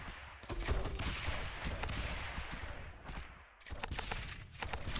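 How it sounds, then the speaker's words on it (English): Video game mortars fire in a steady barrage, with dense booms and crackling blasts rolling on continuously and close, with a brief dip before the bombardment resumes. "Oh, the mortars are just so satisfying"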